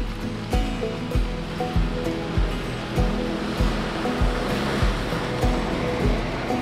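A car fords a river on a rough forest track in Meru Betiri during heavy rain, with steady rushing water and repeated low thumps as it moves, no talk.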